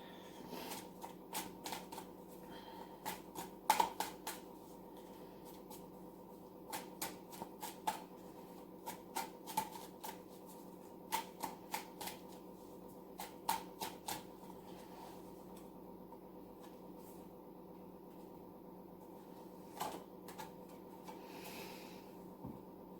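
Tarot cards are shuffled softly by hand, scattered light flicks and riffles coming in short irregular bursts over a quiet room hum, with no talking.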